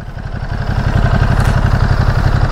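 Ducati Monster 937 motorcycle engine running close by, a loud, steady, throbbing low rumble with a fast regular pulse and slight clatter, rising a little early on and then holding level.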